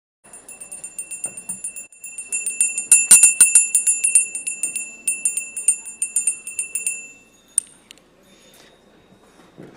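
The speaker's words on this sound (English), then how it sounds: "I brought one of our annoying bells up here to bring this time to a close" A Salvation Army hand bell rings loudly and rapidly in a steady shaking rhythm for several seconds, bright metallic peals stacking up before stopping with a final clink and a few soft rattles.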